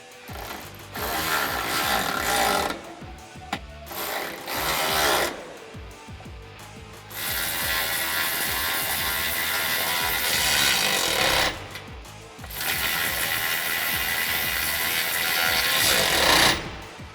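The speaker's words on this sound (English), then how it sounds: "grab our 13mm socket so that we can tighten the bolts on the rocker panel" A ratchet wrench with a socket clicking rapidly in long bursts while tightening bolts and nuts on black 6-inch iStep running boards on a 2019-2022 Chevrolet Silverado, loud and close with short pauses between runs.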